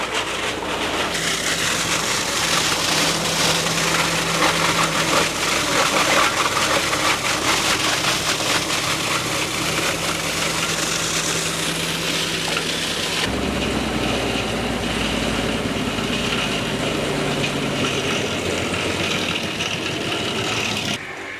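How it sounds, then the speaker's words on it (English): A scratch-built, engine-powered machine turning waste material into caps runs steadily and loud throughout, a droning motor hum under dense mechanical clatter, its tone shifting partway through as the load changes. "So we fabricated the machine from the scratch. It's using engine."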